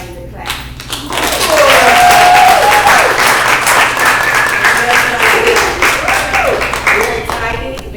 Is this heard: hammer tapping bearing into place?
no